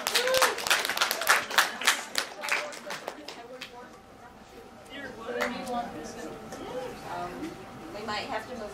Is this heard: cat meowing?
no